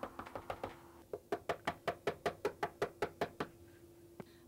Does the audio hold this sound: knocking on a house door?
yes